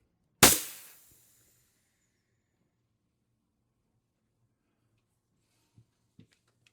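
One sharp, loud shot from an IntruBuster Gen 2 HPA carbine at 800 psi firing 10 g hammer rounds, with a quick decay, followed after a long silence by a couple of faint clicks.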